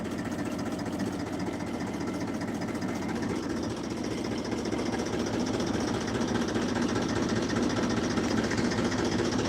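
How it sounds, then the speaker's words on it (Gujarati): A farm tractor engine runs steadily and loudly throughout on a fennel farm, a continuous close rumble with a rapid knocking beat and no talk over it. "આપણી ખેતી આપણું ટ્રેક્ટર ચાલુ કર્યું છે"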